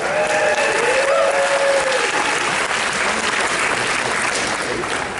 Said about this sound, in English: a round of applause for your panel of judges so far